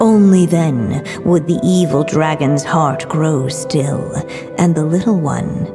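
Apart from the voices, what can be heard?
No distinct noise like a dog, phone or traffic.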